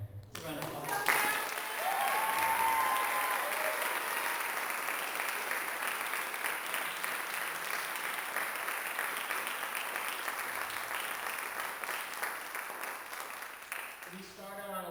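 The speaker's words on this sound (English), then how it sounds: "Let's round of applause." An audience applauds at a school speech and debate showcase, a dense sustained wash of clapping that swells quickly and holds for most of the stretch before tapering, with a voice briefly heard near the start and end.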